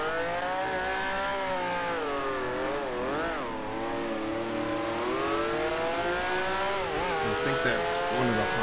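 Honda racing engine from the Grand Prix Legends racing game, a high rasping whine climbing and dropping in pitch through gear changes and corners, loud and continuous in the foreground.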